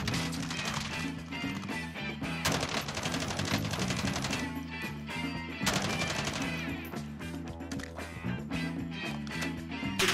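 Dream Maker gun in a shooter game firing rapid automatic bursts, loud and close, with several rattling volleys separated by short pauses over game sound.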